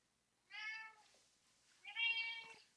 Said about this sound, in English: The cat is trying to jump up, mess with the camera.